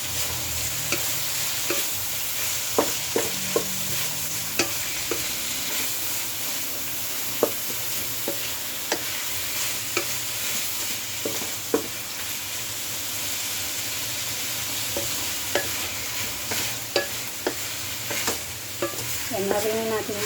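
Bitter gourd and tomato sautéing in a pan for ginisang munggo, a steady close sizzle punctuated by frequent scrapes and taps of a spatula stirring throughout.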